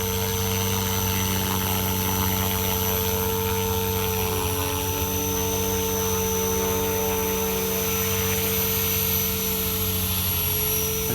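A Blade 500X RC helicopter hovers steadily with its rotor tuned down, a continuous whine with strong tonal harmonics over a whirring blade drone, close and loud for the whole stretch without pause.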